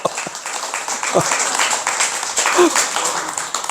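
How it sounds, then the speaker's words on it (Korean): An audience at a Buddhist Dharma talk applauds, a dense wash of clapping that runs the whole time with speech over it. "박수 이럴 때 한번 치야 되는 거 아니겠어요?"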